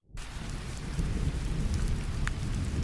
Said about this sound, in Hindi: आज भी बारिश नहीं रुक रही।